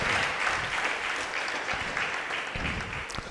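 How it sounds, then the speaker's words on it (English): An audience at a secondary school debate in Ikpoba Okha applauds, a steady dense clapping that fills the room at moderate loudness with no speech over it. "Please give her a round of applause."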